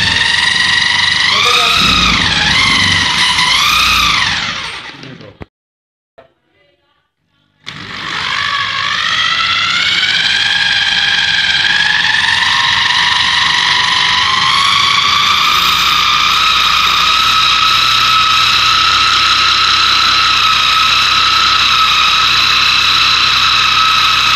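A permanent magnet generator running gives a loud, tonal mechanical whine that wavers, cuts out briefly, then returns and holds steady and slowly rises in pitch for the rest of the stretch.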